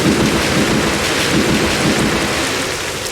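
The Storm Orage thunderstorm attack in the video game Manamon plays as a loud, continuous wash of rain and rolling thunder, steady for about three seconds and easing slightly at the end.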